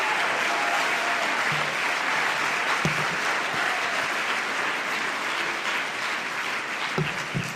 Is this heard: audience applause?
yes